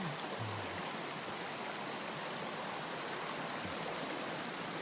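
Steady rushing creek water flows continuously, a broad even wash of sound with no talking.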